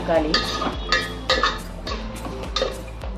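Tomatoes and green chillies stirred in a metal pan, with repeated scraping and clinking strokes of a spoon at a steady rhythm, close and clear.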